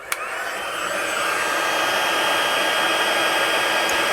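A heat gun blows steadily while melting embossing powder for a papercraft project: a loud, close, continuous airy roar that builds in the first second and then holds level, with a faint click at the start.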